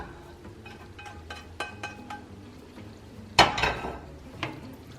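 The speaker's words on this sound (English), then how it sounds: "Ground beef just finished cooking. I'm going to add it to my marinara." Cooked ground beef tipped into a pot of marinara and mixed in, with light clinks of a utensil against the pot, then a wet scraping thud as the meat drops in, followed by softer stirring.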